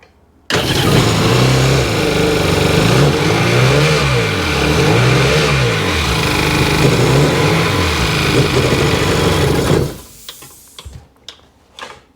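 A 2002 Sea-Doo GTX DI personal watercraft engine starts up and runs loudly and close with a rising and falling rev, then cuts off, leaving a few faint knocks and clicks.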